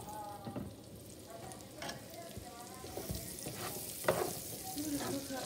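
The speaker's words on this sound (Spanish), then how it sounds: "Ya vamos a poner a dorar nuestra cebolla y los chiles verdes" Onion and green chiles frying in a pan, a quiet, steady sizzle with a few soft stirring scrapes rising through it, heard alone without talk.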